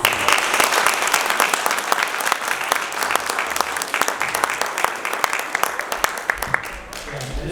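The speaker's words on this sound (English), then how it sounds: "Let's give her a round of applause." An audience at a candidate forum in Council, Idaho applauds loudly and steadily throughout. The dense clapping fades slightly near the end, with some voices mixed into the crowd.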